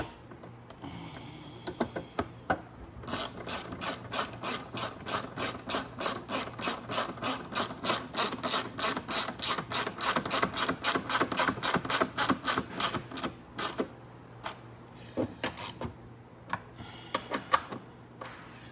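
Ratchet wrench tightening a bolt on the controller of a Venom eVader E-X20 electric vehicle, giving a long, steady run of close, crisp clicks in even rhythm for many seconds before slowing to a few scattered clicks.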